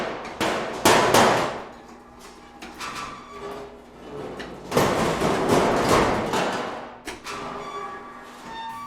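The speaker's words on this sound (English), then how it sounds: "These are really interesting because it's just a giant sheet that the performers just threw, or they would whack it with something." Giant metal sheets thrown and whacked as percussion in a trailer sample library give loud booming clangs with long, roaring metallic decay, two big swells with smaller hits and scrapes between.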